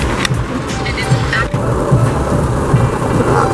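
Heavy pouring rain makes a dense, steady hiss and roar with a low rumble of thunder underneath, loud and continuous, with voices faintly mixed in.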